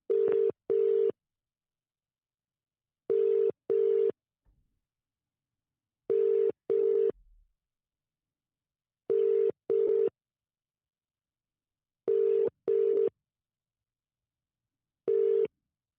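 An outgoing telephone call rings on a mobile network: paired ringing tones repeat at a steady interval of about three seconds against silence, clean and close, with a faint bump or two between them.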